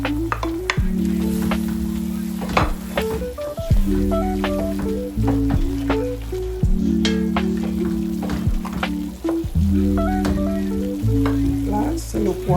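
Red bell pepper sizzling and frying with chicken gizzards in a pan, a steady crackling sauté heard continuously under background music.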